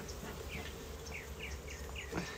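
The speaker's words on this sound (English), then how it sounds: "I'm gonna puff some smoke here, get all these bees down in" Honeybees buzz in an opened hive as smoke is puffed over them, a continuous near drone with faint higher whines from single bees passing close.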